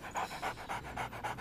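A dog in an animated cartoon pants rapidly and rhythmically, about six quick close breaths in a row, fairly loud and without any talk.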